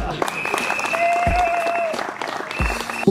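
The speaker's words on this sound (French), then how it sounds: "Vous n'avez pas applaudi le conseil." Applause for the council during a civil wedding ceremony before a registrar, a steady broad wash of clapping filling the room for about three seconds, with voices and a sustained tone running through it.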